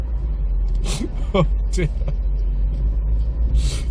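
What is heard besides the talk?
1998 Vauxhall Corsa B 1.4i Cabriolet driving slowly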